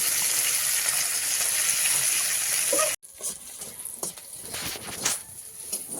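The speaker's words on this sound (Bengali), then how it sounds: "মাছগুলোও নুন হলুদ মাখিয়ে নিয়েছি এবার কড়াইতে দেব মাছ ভাজাটা চলছে" Salted, turmeric-coated fish sizzles in hot oil in a wok, making a steady hiss that drops away abruptly and then returns as softer, uneven spitting.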